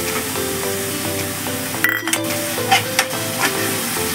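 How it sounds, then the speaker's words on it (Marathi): Masala paste fries in hot oil with a continuous close sizzle while a spoon scrapes and stirs it, with occasional clinks against the pan over a steady background hum. "त्याला तेल सुटेपर्यंत हलवायचं"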